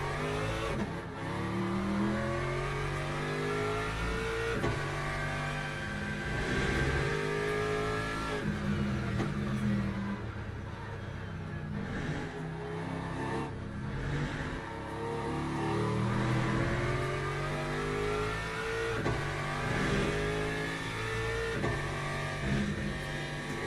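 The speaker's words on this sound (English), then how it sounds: "I do like the sound of the Aston." An Aston Martin race car engine in the Le Mans Ultimate racing game, revving up and down through gears in a continuous loud drone with rising and falling pitch sweeps, alone without talk.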